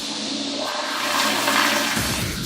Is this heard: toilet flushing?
yes